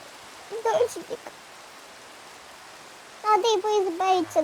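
Minecraft rain: a steady, soft hiss of falling rain runs throughout, with a voice speaking briefly over it at the start and again near the end.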